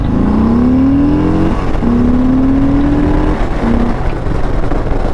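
A 2021 Harley-Davidson Sport Glide motorcycle engine revs loudly up close in three rising pulls, each climbing in pitch before dropping off, over a constant rumbling engine drone.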